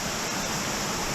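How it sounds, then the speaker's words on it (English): Waterfall at Gunderson Bluff Shelter Falls in Ozark National Forest, Arkansas, a steady broadband rush of falling water that stays even and continuous throughout, with no voices present. "Alright, so we made it here to the second waterfall."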